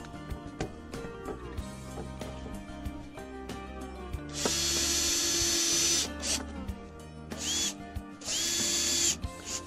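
A power drill drives screws into the top board of a wooden vegetable planter, with loud high-pitched whirring bursts of about a second or two each, separated by quieter handling knocks and scraping of the wood.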